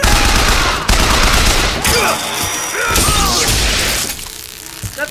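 Gunfire and a gory head explosion in the video game BioShock Infinite, a dense loud burst of shots and crashing impacts running throughout, dropping off near the end.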